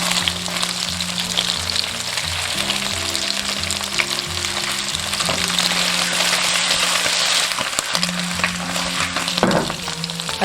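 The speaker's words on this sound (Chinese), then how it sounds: "然后下入锅中，小火慢煎" Egg tofu pan-fries slowly over low heat, giving a steady, close sizzle with faint crackles and occasional light clinks of a utensil against the pan.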